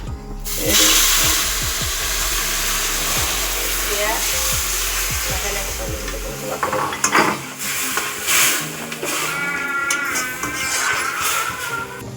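Milk sizzles and bubbles in a hot pan while a spoon stirs and scrapes against the metal, with clinking and rattling in the second half; the cooking is close and fairly loud and runs alone with no talking.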